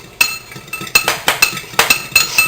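A utensil stirs olive oil and lemon juice dressing in a bowl, giving about a dozen quick, bright clinks against the rim in an uneven rhythm, close and loud, with no speech.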